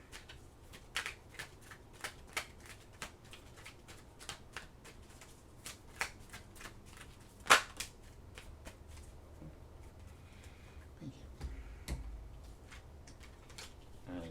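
Tarot cards are shuffled and drawn at close range, a series of soft riffling flicks and sharp snaps spread across the stretch with one loud slap midway, quiet between strokes.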